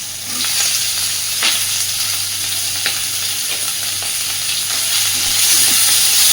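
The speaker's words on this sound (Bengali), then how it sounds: "দিচ্ছি পেঁয়াজ কুচি সেরা কাঁচা লঙ্কা আর টমেটো কুচি" Chopped onion, green chilli and tomato fry in oil in a pan, a loud steady sizzle with intermittent scrapes and pushes of a spatula stirring, close up and without talk.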